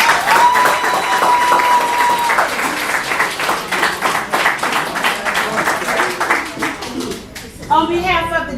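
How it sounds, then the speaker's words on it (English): A city council committee meeting audience gives a sustained round of applause, dense rapid clapping from a crowd in a hall; a speaker talks over the opening and the applause fades into voices at the end. "Let's give him another round of applause."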